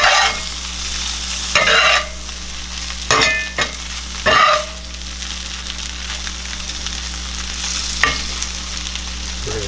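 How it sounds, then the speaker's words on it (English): Kaiserschmarrn, torn pancake pieces, stirred in a pan with butter and sugar: a steady close sizzle broken by several scraping stir strokes, with no talking. "We'll finish that off in the pan with that butter and the sugar. Give that a stir."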